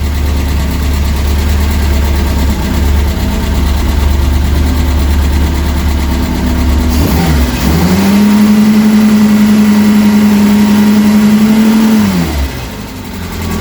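A Reliant Supervan engine idles with a steady low rumble, then is revved and held at a higher, even drone for about four seconds before it drops back. The sound is loud and close.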